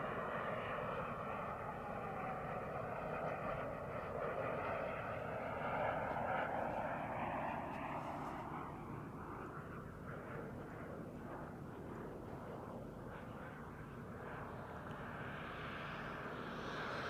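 Twin-engine Krill Ares L RC jet in flight, its turbine roar loud and steady at first, then shifting pitch as it passes and fades slightly, with no talking over it.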